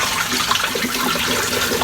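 Tap water runs steadily over cracked green olives being rinsed of dirt and sand, a close, continuous splashing rush with no voices.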